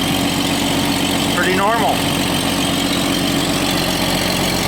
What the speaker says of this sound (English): got a little exhaust leak, sounds like